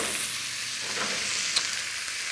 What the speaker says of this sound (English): I'm now going to add my fillet to the pan.